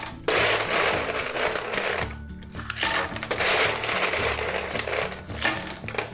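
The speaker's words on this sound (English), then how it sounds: "Just fill that up with some ice" Ice is scooped or poured into a bag in a loud, continuous clatter of rattling cubes, with dense crunching and clinking that runs steadily for about six seconds, briefly easing midway.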